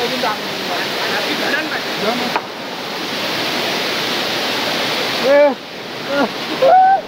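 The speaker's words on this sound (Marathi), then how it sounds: "आम्ही ज्या वॉटरफॉलला आलोय ना नाव काय माहित नाही हिडन वॉटरफॉल आहे" The hidden Ghonsari Falls sends out a steady, close rushing roar of falling water, with people's voices calling out over it.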